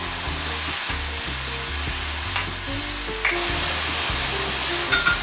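Tofu simmering in a pan with garlic and sauce, a steady loud sizzle and bubbling that carries on without a break, while a spoon or spatula stirs now and then.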